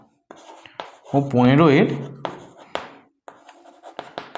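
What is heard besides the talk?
pen writing on paper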